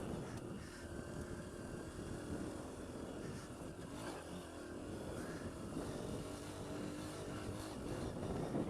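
A Honda CRF150F dirt bike's engine drones steadily and loudly throughout the ride, with a constant rumble and rough wind-like noise that never lets up.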